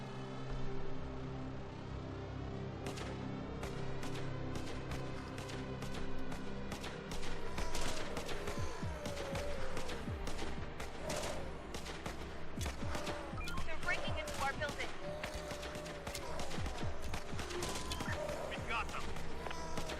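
Defence towers in the survival strategy game Infection Free Zone fire at an incoming horde: rapid irregular volleys of gunshots crackling over a low droning backdrop, sustained and busy, with a voice talking through parts of it.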